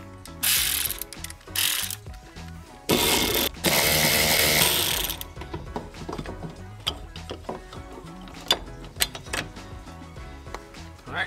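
A ratchet with an 8mm socket clicks rapidly while removing fuel pump bolts on a 2015-2020 Subaru WRX STI, with several loud bursts of ratcheting early on followed by quieter taps and metallic clinks.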